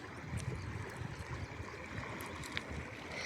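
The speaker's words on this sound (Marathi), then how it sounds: "बहाती नदी" Steady broadband rush of a river's flowing water on the Bhima, continuous and fairly near, with faint splashy accents and no talk.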